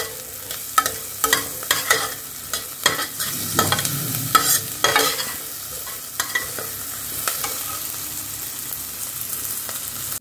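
Whole garam masala spices sauté in a pan, with repeated spatula scrapes and stirring clatter over a steady sizzle, close and fairly loud throughout.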